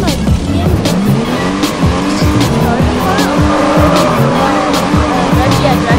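A BMW drifting in the Driving School Sim game in Sport Plus mode: loud engine roar with continuous rhythmic tire squeals and skidding, sustained throughout with repeated sliding bursts.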